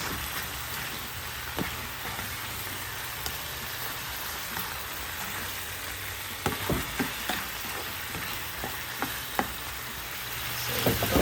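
Squid balls fry in oil in a pan, giving a continuous, even crackling sizzle like light rain, with a few small pops and taps. Close and quiet, with no voices.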